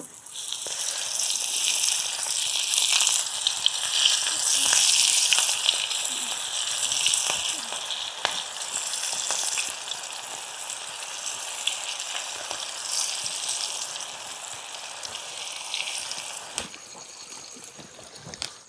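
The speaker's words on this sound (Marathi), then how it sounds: "तर आता ही पण सगळी बाकीची फ्राय करून घेऊया." Prawns sizzle in a pan for a forest-cooked prawn meal, a steady bright hiss with crackling pops and occasional sharper spits, continuous and fairly close.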